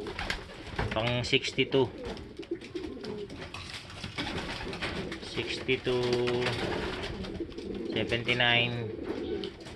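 Racing pigeons coo in soft, repeated low calls close by, while someone talks steadily over them throughout.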